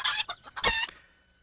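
Chickens on a farm that also keeps cattle, clucking in a couple of close, bright bursts that trail off into quiet.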